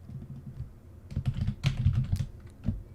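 Keys on a computer keyboard are typed in quick, light bursts of close clicks with a short pause between runs, with no voices.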